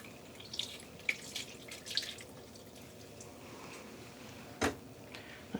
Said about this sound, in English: I'm going to pick up the skeins that I've been soaking in the tub.